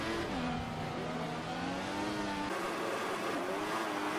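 Formula 1 cars racing at the Bahrain Grand Prix in a video game, engines whining steadily with rising and falling pitch as cars accelerate and shift, a continuous loud drone without talking.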